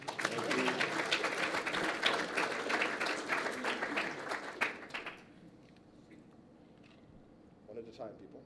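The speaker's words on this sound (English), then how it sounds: "Okay, you can clap now." Audience applause at a Python developer conference after a talk ends, dense clapping for about five seconds and then stopping abruptly, leaving a quiet room with a few faint scattered sounds.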